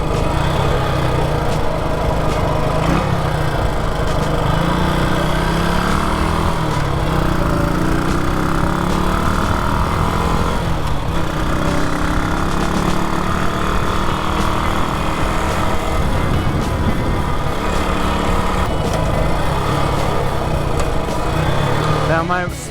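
A Moto Guzzi Stornello motorcycle single-cylinder engine idles fast, a loud, steady, close mechanical drone that runs unbroken throughout with a slight wavering rhythm.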